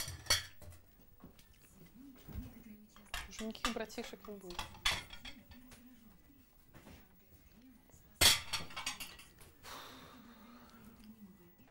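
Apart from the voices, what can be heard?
dishes and cutlery clinking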